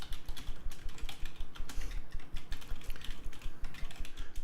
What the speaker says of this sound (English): I could not keep up with you typing.